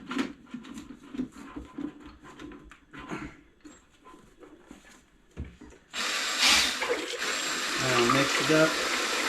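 Faint talking and shuffling, then a power drill with a paint mixer attachment kicks in with a steady whirring churn of thick liquid plastic being stirred, loud and continuous.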